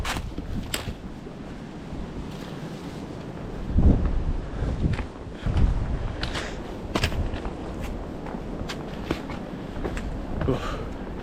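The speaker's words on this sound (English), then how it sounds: "Getting a little windy again." Wind gusts buffet the microphone on a winter day hike along the Appalachian Trail, a steady breathy rush with several sharp thumps and swells, heard alone without talk.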